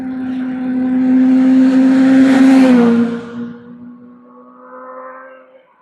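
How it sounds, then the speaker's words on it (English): A motorbike passes on a winding, hilly road near Loch Ness, its loud engine tone swelling, then dropping in pitch as it goes by and fading away, with a fainter engine following in the distance. "I can hear the motorbikes coming around all the bends."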